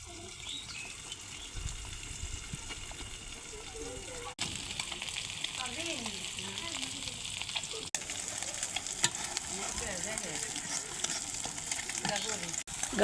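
Fish sizzles and spatters in a hot pan with a steady, bright hiss running throughout, while someone talks over the cooking.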